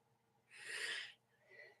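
A single person's sneeze, a burst of breathy noise lasting about two thirds of a second, followed by a softer sniff or snort, heard close by with no talking.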